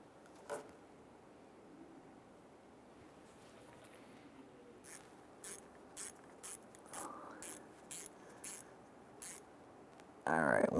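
Socket ratchet spinning a lower bumper bracket bolt on a 2011-2017 Honda Odyssey, giving a run of quiet, evenly spaced clicks over a low background hum, closing with a louder clatter at the end.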